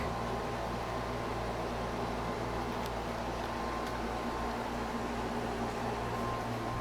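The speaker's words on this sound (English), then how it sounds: "As you can see, I do have an air conditioner that runs in here. It's just a portable." A portable air conditioner runs steadily in a small workshop room, a constant mechanical hum and airy whoosh with no talk over it.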